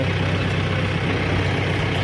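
A tractor engine drones steadily while plowing a rice field at about four in the afternoon, a continuous low rumble close by with no talk over it.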